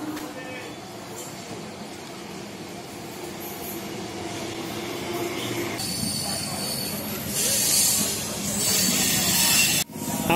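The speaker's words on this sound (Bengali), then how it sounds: "আমাদের ট্রেন কিন্তু ঢুকে যাচ্ছে, দেখতেই পাচ্ছ হাওড়া টু কাটোয়া লোকাল" A Howrah to Katwa local train pulls into a station and rolls along with a steady rumble, building louder with wheel squeal and hissing bursts near the end, heard from close by on the platform.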